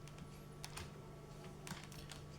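A command typed on a computer keyboard while working on a web server: a quiet, uneven run of light key clicks over a steady low hum.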